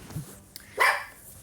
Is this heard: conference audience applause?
no